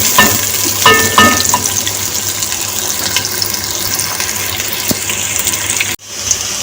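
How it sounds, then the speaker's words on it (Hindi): Onions and green chili fry in a pan with a loud, steady, hissing sizzle, broken by a few clinks of a spoon and an abrupt short gap near the end; close and without talking. "अब हम इसको 1 मिनट के लिए फ्राई करेंगे प्याज़ों के साथ"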